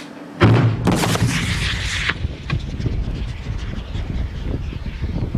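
A replica naval cannon fires chain shot in a Trafalgar-era reconstruction, a single heavy boom followed by a long rumbling, windy roar that fades over several seconds in the open air.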